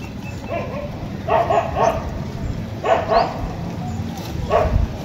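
A dachshund puppy barks in short, high yaps close by: a quick run of three, then two more, then a single yap, over a low background.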